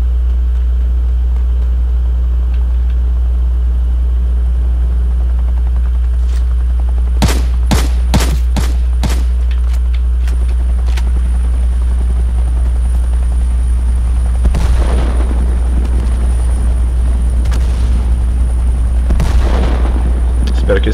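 Video game bombardment with a sudden burst of rapid gunshots followed by heavy explosions and rumbling blasts, loud over a constant low engine-like drone.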